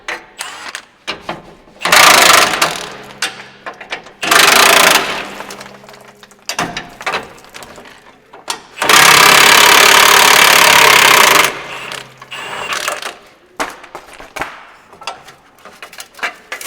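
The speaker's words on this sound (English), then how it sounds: "now what I gotta do is get this old piece of pipe off of here" Old exhaust pipe being worked off a Smokey and the Bandit tribute truck with hand and power tools: several loud bursts of grinding-like noise, the longest near the middle, between scattered metallic clanks and rattles, no talk.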